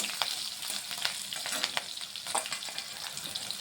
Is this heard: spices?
yes